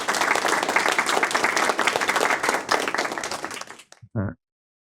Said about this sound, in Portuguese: ao qual peço uma salva de palmas.